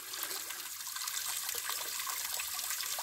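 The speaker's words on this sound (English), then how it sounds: "a new shower head. That's without water pressure." Water sprays from a new flat shower head at low pressure, a steady, fairly quiet hiss of falling water with no break.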